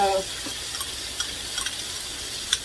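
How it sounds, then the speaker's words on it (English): Sausage goes back into a hot frying pan, a soft steady sizzle with a few light scrapes and taps of a utensil, close and without talking. "Then I'm going to add back the sausage."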